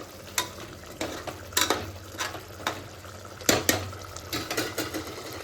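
A spoon stirs chicken pulao ingredients in a cooking pot, giving scattered scraping and clinking strikes at an uneven rhythm over a soft sizzle, close and moderately quiet.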